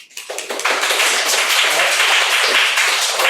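An audience at a coding bootcamp demo day applauds the team. Clapping builds quickly from a few hands into steady, dense applause that holds to the end.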